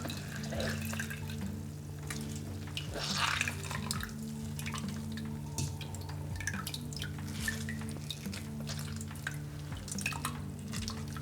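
Tap water runs steadily into a sink as freshly dug carrots are rinsed of mud, with splashing and dripping close by and no talking.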